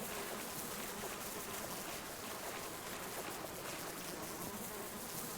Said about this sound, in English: These honeybees are not letting up.